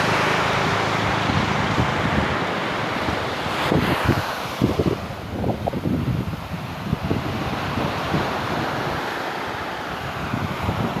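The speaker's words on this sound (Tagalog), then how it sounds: "Masyadong malakas ang alon guys." Heavy surf rumbles steadily while strong wind buffets the microphone, with bursts of gusty noise throughout.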